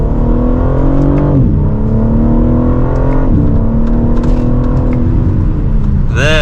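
BMW M3 xDrive Competition sedan pulls hard from second gear, its engine note climbing steadily through the revs, loud and close, with brief dips at the upshifts.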